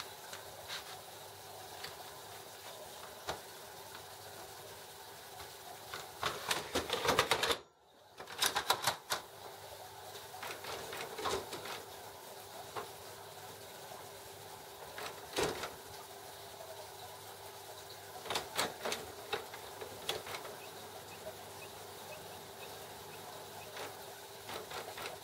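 Canon IP7250 printer printing a decor icing sheet, giving quiet mechanical whirring and buzzing with clusters of rapid clicks and ticks and a brief pause partway through, steady and fairly faint.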